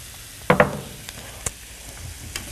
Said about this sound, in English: get our onions sauteing here.